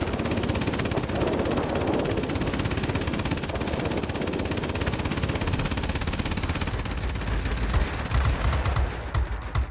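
Machine guns on a Northrop P-61 Black Widow in World of Warplanes rattle in a long, dense stream over steady engine drone, ending in sharper separate bursts.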